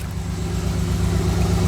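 A 1986 Nissan 300ZX Z31 idles with a steady low, throbbing engine hum, close and even, with no voices.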